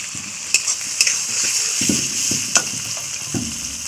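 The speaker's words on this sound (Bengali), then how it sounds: "এবারে আদা আর জিরে বাটাটা দিয়ে দেব।" Ginger and cumin paste hits a pan of frying tomato and onion, making a close, continuous sizzle with several sharp clinks and scrapes of a spoon stirring, and no one speaking.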